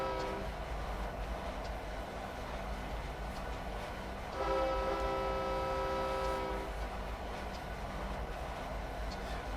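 A Union Pacific SD70M diesel locomotive rumbles steadily in the Train Simulator game on Donner Pass, with a loud horn blast entering midway and holding for about two seconds over the engine drone.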